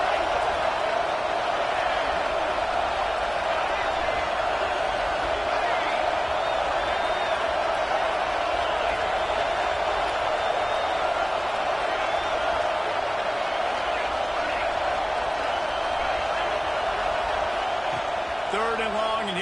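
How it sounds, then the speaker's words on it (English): Home stadium crowd at a college football game, Tennessee at Texas A&M, roars in a steady, dense wall of cheering that holds loud throughout the clip, with a broadcast commentator's voice running over it. "how nice is it to have the home crowd going absolutely bananas?"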